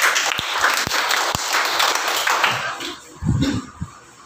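A church congregation claps together during a sermon on baptism in the Holy Spirit, a dense burst of applause with a few sharp claps standing out, fading before a voice speaks.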